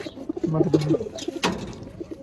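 A small pet pigeon gives a short, soft cooing call up close, a low throaty burst early on followed by a quieter rustle and faint background murmur.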